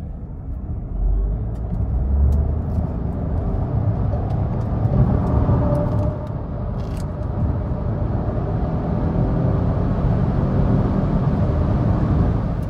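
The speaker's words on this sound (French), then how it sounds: "Je vous montre un petit exemple de ce que ça donne pour le 0 à 100, le 90-130." A Renault Rafale plug-in hybrid accelerates from 0 to 100 km/h, a steady, muffled in-car drive roar of engine and road noise that holds without a break for several seconds, with no one speaking.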